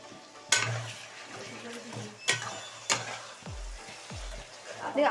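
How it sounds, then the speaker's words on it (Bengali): Ginger garlic paste fries in a pan for khichuri, a soft sizzle under loud clattering spoon strokes and scraping that come in uneven bursts, with low thumps near the end. "আদা রসুন বাটাটাকে আমি ভালো করে ভাজবো নইলে মশলাটা গন্ধ ছাড়বে আমি ভেজে নিচ্ছি দেখুন"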